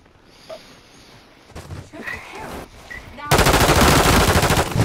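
Call of Duty gunfire: quieter game sounds and scattered shots lead into a loud, rapid automatic burst that fills the final second and a half.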